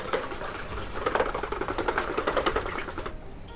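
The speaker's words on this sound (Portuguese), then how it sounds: "agora que eu tô batendo os ovos" Eggs being beaten by hand with a wire whisk in a bowl for lactose-free bread dough, a fast, even rhythmic ticking and slapping close up that stops abruptly near the end, with no voices.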